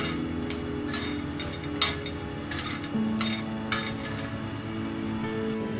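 Chickpeas and chillies dry-roasting in a pan give a soft sizzle under scattered metallic clinks and scrapes of a spoon stirring against the pan, close and moderately quiet with a steady background hum.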